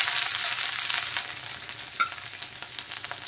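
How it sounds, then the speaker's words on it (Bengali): Grated ginger and garlic fry in a little hot oil for crispy veg momos, a loud, close, steady sizzle with a light clink near the middle and faint scraping of stirring, with no talking. "তেলের মধ্যে দিয়ে দিলাম গ্রেট করা আদা, গ্রেট করা রসুন"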